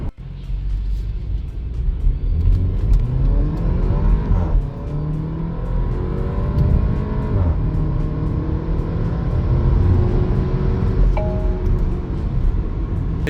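A Porsche Macan 2.0 Turbo accelerates hard from inside the cabin, the engine note climbing through several rising sweeps between gear changes, loud and continuous.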